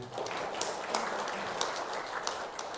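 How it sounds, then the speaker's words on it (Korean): Applause from a church congregation during a Sunday worship service, a brief steady patter of many hands clapping at moderate level. "박수 한번 합시다"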